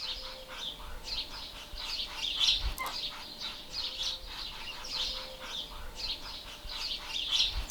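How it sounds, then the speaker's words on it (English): Small birds chirp and tweet repeatedly on a quiet morning coastal walk on Gozo, Malta, fairly faint and distant, with a steady low background rumble and no talk. "Literally all you can hear is the sound of the birds."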